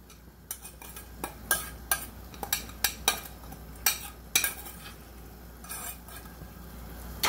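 Beef with tomato juice and corn being stirred in a pan, with a utensil scraping and clinking against the pan in regular strokes about every half second, fairly close, with no talking.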